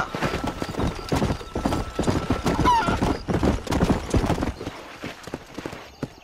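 Horse hooves gallop in a fast, rhythmic clip-clop in the Red Dead Redemption video game, loud and close, with a whinny mixed in.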